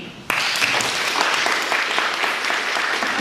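An audience bursts into applause at a women's walk event right after a speech ends, the clapping starting sharply and holding as a dense, loud, continuous roar of hands.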